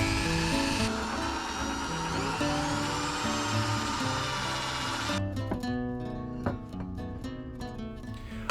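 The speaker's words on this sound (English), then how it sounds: "we're going to start drilling our holes" A power drill whines steadily and loudly, then gives way to a series of short clicks and knocks as it bites into the material.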